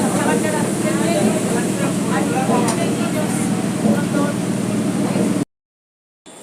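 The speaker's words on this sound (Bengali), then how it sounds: "ফাইনালি ট্রেনে উঠে পড়েছি।" Inside a moving local train in Kolkata heading toward Tollygunge, with a steady rumbling roar of wheels and carriage noise running continuously before cutting abruptly to silence near the end.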